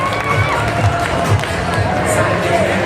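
A crowd at a roller derby bout cheers and shouts in a steady, loud wash of noise, with scattered voices and skate thumps mixed in.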